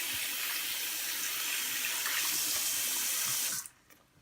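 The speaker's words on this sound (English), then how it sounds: "make sure to wash your hands. Make sure to rub it in before you start. Get those suds." Hands are washed under a running kitchen tap, a steady close hiss of flowing water that stops abruptly near the end.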